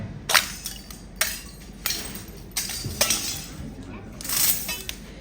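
Cooled lava that has turned into volcanic glass being broken, giving a series of sharp, glassy cracks and clinks spaced every second or so, with a soft crowd murmur underneath during a lava show in Reykjavik, Iceland.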